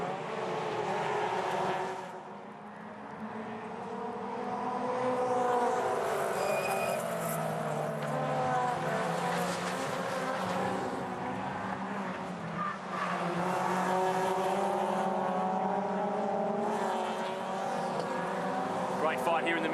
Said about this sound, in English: he's got to worry about Luke King, who is shadowing him ever so closely as they run to turn 1